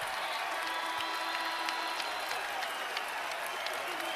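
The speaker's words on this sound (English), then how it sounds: "And getting the approval from the crowd." Arena crowd at a Nicholls vs Villanova college basketball game applauding a blocked shot, steady clapping and cheering filling the hall throughout with a few sharper claps poking out.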